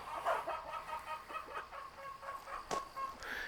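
A rooster, recently acquired from a neighbor, clucks repeatedly in short bursts close by on a backyard farm, with a sharper call near the end.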